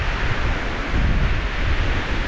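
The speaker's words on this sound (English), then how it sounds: "Okay, pretty windy here." Strong wind at a lake roars steadily across the microphone, a dense, continuous rushing noise with low rumbling buffets and no speech.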